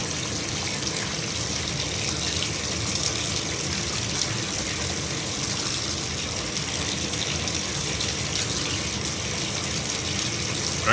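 Hot water runs steadily from a bathtub tap, fed by an electric hot water tank, in a constant close-up gush and splash with no talking over it.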